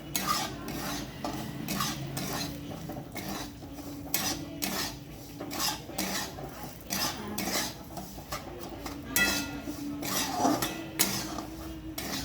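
Semolina being stirred and roasted in a pan with ghee for a Maharashtrian sheera, a spoon scraping and clinking steadily against the metal in repeated strokes, close and moderately loud, with a faint sizzle beneath and no talking.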